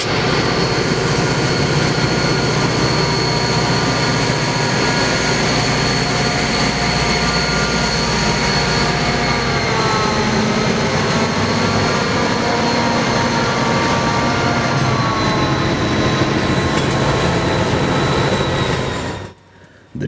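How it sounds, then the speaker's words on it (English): A single SD40-2 diesel locomotive hauls a mile-long freight train through a rail yard in Galesburg, Illinois, a loud sustained roar of engine and rolling cars with squealing tones, ending abruptly near the close. "The train this single SD40-2 is pulling is about a mile long"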